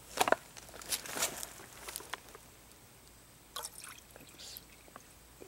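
Water from a drinking cup is poured into a bottle in short uneven bursts, with splashing drips and trickles, then a pause, then a few more pours nearby.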